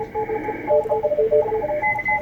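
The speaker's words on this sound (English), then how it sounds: "That's all the different Morse code signals spread across the bandwidth of the subpart on 20 meters." Several Morse code signals on the 20 meter amateur radio band during a CW contest beep at once as overlapping steady tones and rapid dot-dash pulses, over a soft radio hiss.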